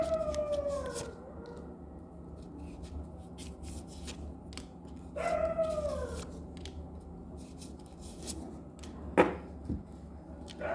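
Dogs at night give two drawn-out, falling howling yelps a few seconds apart, fairly distant over a steady low hum, with a faint sharp sound near the end.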